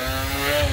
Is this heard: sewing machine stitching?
no